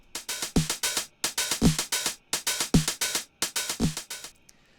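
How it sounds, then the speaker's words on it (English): Unprocessed 909 core drum kit playing a steady looped pattern: punchy kick hits on each beat with crisp hi-hats and snare bursts, four even bars, loud and dry with no voices. "I started out with this 909 core kit"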